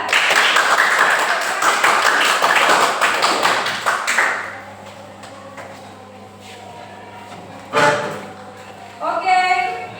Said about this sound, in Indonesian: Oke, tepuk tangan dulu untuk kelompok 3.